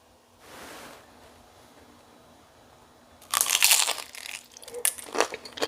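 Crispy fried crab rangoon bitten into, giving a short burst of loud, close crunching that repeats in a few chewing crackles after a quiet pause with a faint rustle.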